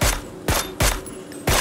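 Four loud, sharp gunshots from the PUBG video game ring out at a steady, deliberate pace, each crack followed by a short decay before the next.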